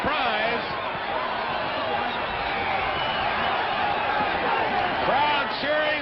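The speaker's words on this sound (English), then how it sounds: "Crowd cheering the conclusion." Boxing crowd roaring at the final bell of a 1967 heavyweight fight between Floyd Patterson and Jerry Quarry, a dense, sustained wash of cheering voices from a large audience, steady throughout with a slight swell near the end.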